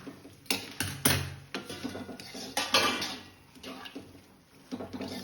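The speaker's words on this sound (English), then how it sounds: "Now mix well." Soaked rice flakes being mixed in a metal pan for a poha breakfast dish, with a spoon clanking and scraping against the pan in irregular, close bursts and no talking.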